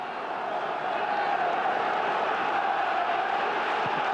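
A capacity football crowd of about 22,000 at Roker Park fills the stands with a steady, dense roar and murmur, continuous and fairly loud throughout, with no single voice standing out.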